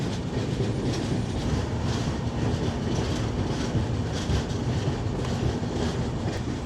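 A passenger train running near Titlagarh, India, its wheels clattering in a steady clickety-clack with a continuous rumbling roar, fairly close and unbroken, no voices.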